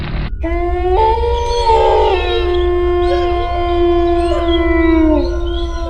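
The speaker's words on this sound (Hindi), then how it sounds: "जंगल में घुसने के साथ ही भेड़िए की चिल्लाने की आवाज आने लगती है" A wolf howls in a forest: one long, loud, sustained howl with rising and falling pitch runs through nearly the whole span, close and clear over a steady low rumble, with no talking.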